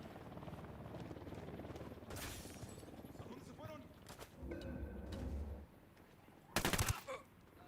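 Automatic gunfire in the video game Ghost Recon Wildlands comes in a few short, sharp bursts separated by gaps. Low game ambience sits underneath, and players talk between the shots.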